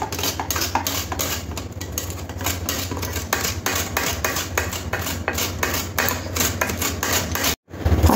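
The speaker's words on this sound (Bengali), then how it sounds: "এবার গ্রেটার দিয়ে গ্রেট করে নেব" A large peeled potato rubbed against a metal kitchen grater in quick, steady rasping strokes, close and crisp, continuing for several seconds with a brief pause near the end.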